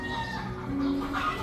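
Hens clucking in a breeding pen at a poultry breeding facility, a steady low chorus of soft clucks with occasional louder calls, fairly close and continuous throughout.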